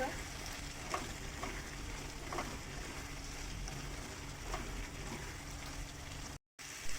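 Chickpeas (kabuli chana) frying and being stirred in a pan, a steady close sizzle with scattered soft scrapes and clinks from the spoon, briefly cut to silence near the end.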